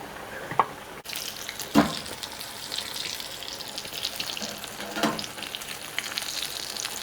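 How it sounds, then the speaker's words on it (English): Steady crackling sizzle of falafel frying in hot oil, with a few louder pops and clinks, no voices. "We're gonna finish frying the falafel"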